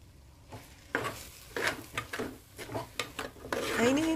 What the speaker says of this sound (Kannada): ಪುಡಿ ಮಾಡಿದ ತೆಂಗಿನಕಾಯಿ ಹಾಕಿ ಒಂದು 5 ನಿಮಿಷ ತಿರುಗಿಸೋದು